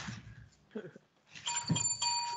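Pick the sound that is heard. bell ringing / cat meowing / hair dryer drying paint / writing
bell ringing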